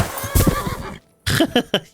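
A horse in Kingdom Come Deliverance 2 whinnies loudly and close, its neigh breaking off for a short moment before it snorts and calls again in several quick bursts.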